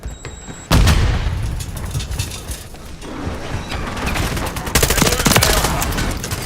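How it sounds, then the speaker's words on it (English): A Semtex grenade blast in a first-person shooter video game erupts with a sharp boom, followed by dense, rapid gunfire bursts and further loud impacts continuing throughout. "Semtex out!"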